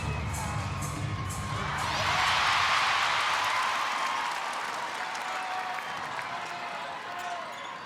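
A netball crowd at a Suncorp Super Netball match between the Vixens and Fever cheers and applauds, the roar swelling loudly and then easing to a sustained murmur of clapping.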